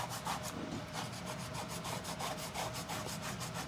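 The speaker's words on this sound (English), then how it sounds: "It's just scraping up that paste" A plastic tool scrapes transfer paste off a surface in a steady run of rhythmic strokes, each one a close, gritty rubbing rasp repeating about every half second.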